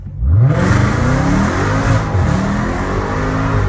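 A Hellcat Redeye revs hard while accelerating in second gear, a loud, close engine roar rising steadily in pitch and holding at full volume throughout, with no talk over it.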